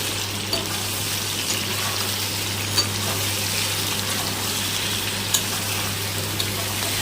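Ridge gourd frying in a pan for a poppy-seed dish, a steady soft sizzle with faint stirring clicks and a low constant hum underneath, no talking.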